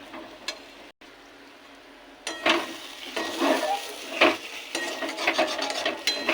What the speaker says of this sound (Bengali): এটাকে এইভাবে পাকিয়ে দিয়ে কম আছে ভাজবো।